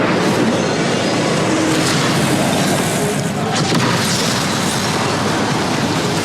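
Incendio fire spell bursting in Hogwarts Legacy on PS4: a loud, sustained booming blast with rumbling roar and crackling texture, filling the whole stretch without pause.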